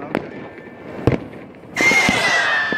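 New Year's Eve fireworks in Zermatt, Switzerland, with a few scattered distant bangs and pops followed by a sudden burst of bright crackling that continues to the end, heard outdoors in an otherwise quiet night.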